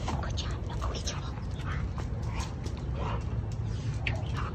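A dog whimpers in soft, high, intermittent whines over a steady background rumble, faint and close.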